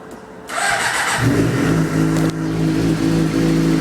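A Suzuki GSX-R600 K7 motorcycle with an Akrapovic exhaust and the exhaust valve removed cranks and catches, then settles into a steady, loud idle close by.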